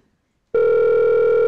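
A telephone signals an incoming caller on a Slovenian radio call-in show: after a brief near-silence, a loud, steady electronic tone cuts in abruptly and holds without a break.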